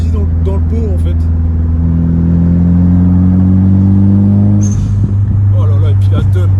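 A Nissan 200 SX S13 idles and revs with a loud, steady engine drone, and a sharp exhaust crack bursts out near the end. Voices are heard nearby.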